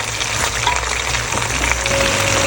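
Onion hitting hot oil sizzles in a dense, continuous hiss, loud and close throughout, with a faint tonal whine partway through.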